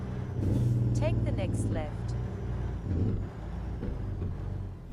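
A Mack Titan truck engine in American Truck Simulator rumbles low and steady, hauling uphill on a slick road, with a voice talking over it throughout.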